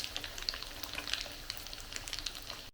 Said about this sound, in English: next you will need to fry the tofu until it's lightly brown